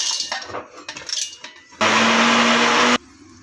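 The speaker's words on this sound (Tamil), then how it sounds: "இதை வந்து நம்ம நல்லா அரைச்சிட்டு வந்துடலாம். வலுவலுன்னு அரைச்சிட்டு வந்துடலாம்" A mixer grinder roars loudly for just over a second, grinding a masala paste with garlic for cauliflower kurma, preceded by light clattering and tapping of the jar and no talking.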